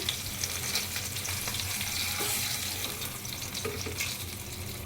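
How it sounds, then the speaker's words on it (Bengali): Climbing perch (koi fish) sizzle and crackle loudly in hot oil, a dense, continuous frying sound with no voices. "আপনাদের সাথে আমি একটু কই মাছগুলো ভাজাই শেয়ার করছি"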